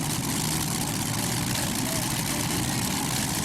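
A 1999 tractor-pulling machine roaring down the track at a tractor-pulling competition, a loud, steady, heavy engine drone that fills the whole clip without a break.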